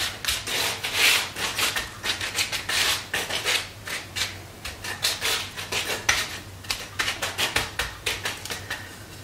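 Treats being spread across a metal baking sheet by hand, with a close run of scraping and rubbing clatter in irregular bursts and no talk.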